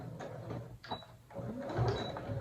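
A home sewing machine back stitching along quilt binding, a steady close mechanical whir and needle clatter that briefly slows, pauses and restarts, with no talking.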